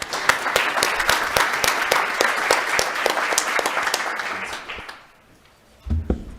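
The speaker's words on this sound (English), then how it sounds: "please join me in a round of applause for our speakers" Audience applause for speakers at an urban sustainable mobility conference session, many hands clapping loudly and steadily for about five seconds before fading out, followed by a short low thump.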